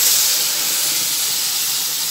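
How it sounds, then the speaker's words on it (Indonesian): Blended spice paste hits hot oil in a pan, giving a loud, steady, broadband sizzling hiss that holds without a break throughout. "Ini minyaknya sudah panas ya moms ya, kita masukkan semua bumbu yang tadi kita blender."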